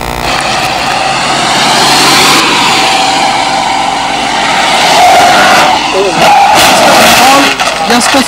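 A Tata Nano small car skids during a test drive, loud tire squeal and engine noise with voices shouting over it, played back through a presentation room's speakers.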